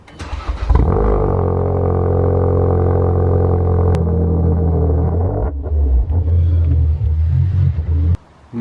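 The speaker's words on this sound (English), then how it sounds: "So let's hear a cold start up on this." A rebuilt car engine cold-starts close by, catching after a brief crank and then settling into a loud, steady, rumbling idle that holds with slight wavering before cutting off near the end.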